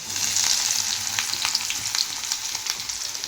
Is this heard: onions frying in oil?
yes